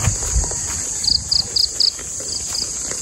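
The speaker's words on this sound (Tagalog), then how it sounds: "May kuliglig." A cricket chirps in short, evenly spaced high trills, a few quick pulses in a row, fairly close over an outdoor background of steady insect drone near fruit trees such as mango and banana.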